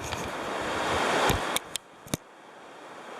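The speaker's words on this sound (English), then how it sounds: "I've got to be careful here because I'm going to get the waves" Ocean waves washing against a rocky beach on the Great Ocean Road at Two Mile Bay, a loud continuous surf rush swelling then easing, with a few sharp clicks near the end.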